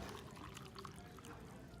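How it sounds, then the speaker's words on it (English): Water pours into the small fill cup of a steam iron, a steady close trickle and splash that runs continuously for a couple of seconds. "But I'm just gonna pour water into the little cup,"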